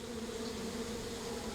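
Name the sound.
bees buzzing around the hive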